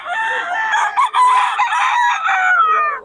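Young roosters (stags) on a farm in Bulacan crow and cluck loudly and continuously from close by, a dense overlapping chorus of several birds lasting about three seconds with no talking.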